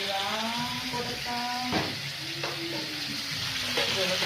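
Chicken sizzling as it fries in a pan, a continuous close crackle with a couple of sharp stirring or scraping knocks, and a faint tonal hum running underneath.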